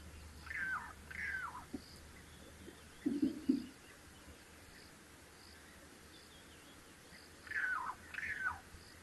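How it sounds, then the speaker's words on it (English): Starlings give two bursts of chattering, warbling calls at the start and again near the end, with a short low chirping in between, set against faint outdoor background hiss. "I do love the noises that the starlings make."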